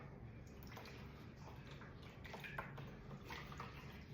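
Distilled water poured into the reservoir of a Vinyl Styl Deep Groove record washer, a faint close trickle and splashing with small drips, quiet and steady throughout.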